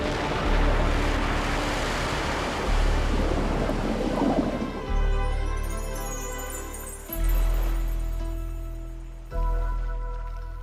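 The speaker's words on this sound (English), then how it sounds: "massive swells pound the beach and the shallow reef" Massive storm swells pound a beach and a shallow reef, a roaring wash of surf broken by several heavy, booming wave impacts that hit hard and then fade.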